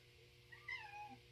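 A cat meows a few times, faint and close, in a quiet indoor room, with short tonal calls rising and falling over a low steady hum.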